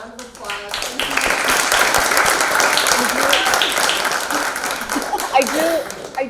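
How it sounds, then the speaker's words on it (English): Steady audience applause fills a university theatre after a performance of A Doll's House, dense clapping holding for several seconds with a few voices heard near the end. "can you all join me one more time in giving them a round of applause?"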